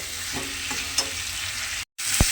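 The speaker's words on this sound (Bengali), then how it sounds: "আলু খুব ভালোভাবে কষিয়ে একটু ভাজা ভাজা করে নিতে হবে" Small winter potatoes stir-fried with spices in a pan, a steady close sizzle with a few scraping stirs of a spoon, briefly cut off near the end, no talk.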